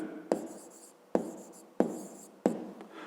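Someone writes out a math solution, with four sharp strokes at even intervals, each followed by a short scratching tail. The sound is close and quiet, with no voices.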